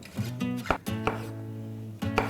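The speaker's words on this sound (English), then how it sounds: "So I'm just slicing these as thin as I can." A knife slices thin pieces of shiitake mushroom on a board, with several crisp, close cuts that knock in an uneven rhythm. Nobody speaks.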